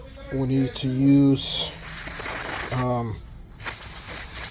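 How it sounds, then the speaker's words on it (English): Ordinary brake cleaner sprays in hissing bursts onto an old rear brake caliper of an Acura RDX, with someone talking close by between and around the sprays. "just normal brake cleaner"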